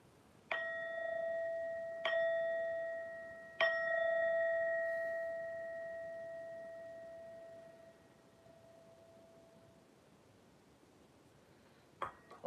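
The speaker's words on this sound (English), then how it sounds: "You get a bell for entering the chat for the first time" Three bright bell dings ring out one after another near the start, each with a long ringing decay, as an alert for someone entering a stream chat for the first time, followed by a faint clink near the end.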